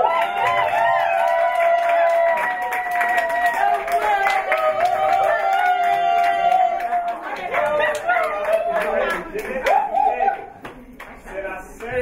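A crowd claps and cheers at a political campaign closing ceremony, with sustained applause and chatter. Music plays throughout, and the clapping thins out toward the end.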